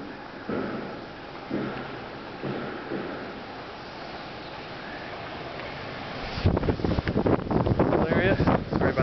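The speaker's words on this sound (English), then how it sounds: "It's windy today." Wind gusts buffet the microphone outdoors by a house pool, starting as intermittent rumbling puffs and turning into steady, loud roaring in the last few seconds.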